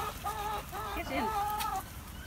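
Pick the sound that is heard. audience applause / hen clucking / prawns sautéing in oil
hen clucking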